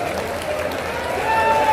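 Applause from the audience at a political rally in Deoband: a steady, dense wash of clapping fills the whole short stretch, with a faint tone rising near the end.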